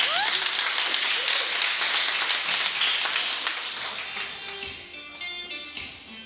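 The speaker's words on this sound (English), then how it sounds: "A round of applause for Mike B." An audience applauds a performer at a valleys talent show, dense loud clapping that fades gradually toward the end, with faint voices and a few taps underneath.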